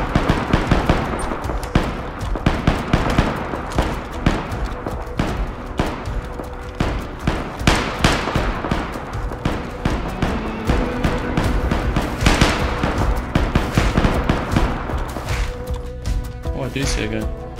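Gunfire in the survival game DayZ, rapid repeated shots cracking steadily through the whole stretch over loud game ambience, with a player speaking now and then.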